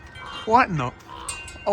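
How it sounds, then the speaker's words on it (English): An American crow caws outdoors on a windy day, giving a couple of harsh, close calls with a short pause between, while a man briefly exclaims in surprise. "I thought it was some kind of bird, but it's an American crow."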